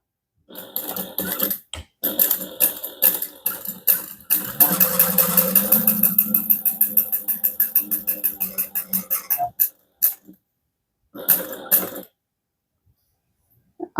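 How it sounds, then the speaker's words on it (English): A sewing machine stitches a tote handbag with rapid, rhythmic bursts of needle pulses, running in several spurts separated by short pauses, close and alone. "now I'm going to sew these in place by sewing"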